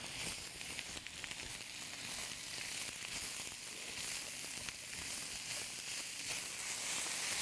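Vegetables and garlic cook in olive oil in a skillet, a faint, steady sizzle and hiss running evenly throughout with no talking.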